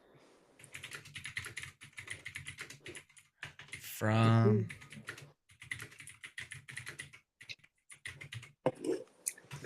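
Clicking keystrokes on a computer keyboard run through most of the stretch, close and moderately loud, under and between people talking, with a louder vocal burst near the middle.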